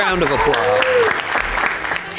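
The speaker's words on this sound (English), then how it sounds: "Round of applause." A small group claps and cheers for a finished sewing project in a studio competition, brief applause under a voice speaking over it.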